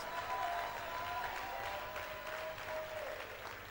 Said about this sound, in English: A round of applause for Mallam, please.